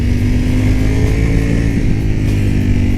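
Ducati Panigale V4S motorcycle engine pulling hard under acceleration, a loud, dense, continuous roar heard up close with no talking over it.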